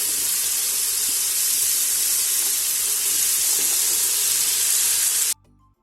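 Onion, garlic, pepper and carrot fry in olive oil and rib fat in a pan, a loud, bright, continuous sizzle and hiss that cuts off abruptly near the end.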